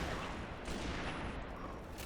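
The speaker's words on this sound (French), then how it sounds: "Aïe aïe, qui me tire dessus?" Gunfire in the video game Halo 3 ODST: a dense, continuous burst of shots rattles along without pause, fairly loud and filling the whole moment with no talk over it.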